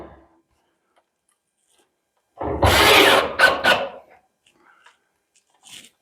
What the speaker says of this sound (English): you can run in these 4 screws.